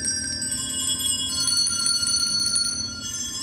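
Handbells from a senior handbell choir ring sustained, overlapping tones, each colour-coded bell holding its pitch in a steady shimmering chord, played indoors with no talking.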